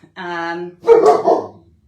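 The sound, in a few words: dog barking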